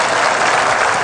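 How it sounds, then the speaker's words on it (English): A brief, dense burst of seminar-audience applause, loud and continuous, with many hands clapping at once. "Okay, what about a good round of applause?"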